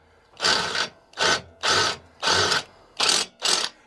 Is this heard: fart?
no